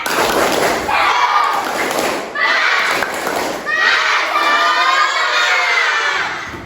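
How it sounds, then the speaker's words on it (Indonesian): A class of children shout and clap together in a loud, rhythmic spirit-clap chant, with bursts of cheering rising and falling over several seconds. "kita tepuk semangat dulu ya"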